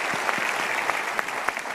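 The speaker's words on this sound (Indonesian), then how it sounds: "Oke, kita berikan tepuk tangan untuk mereka." A studio audience on a televised talk show breaks into brief applause, a steady wash of clapping at moderate volume with a few sharper claps standing out.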